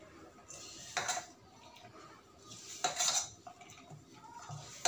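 Oil, called moyan, being worked by hand into flour in a bowl, giving soft clinks and scrapes against the bowl with a few brighter rattling bursts, close and fairly quiet.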